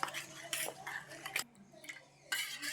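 A spoon scrapes and clinks against a bowl while pineapple ice cream mixture is stirred, giving soft, close, intermittent clatter with faint voice in the background.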